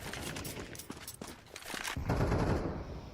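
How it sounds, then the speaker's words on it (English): Gunfire in a Counter-Strike match at PGL Bucharest 2025, with a sniper rifle in play: a burst of sharp, loud shots in quick succession, then a heavier sustained blast near the end. "That's Degster's sniper on the field."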